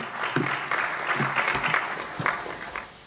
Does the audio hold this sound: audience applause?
yes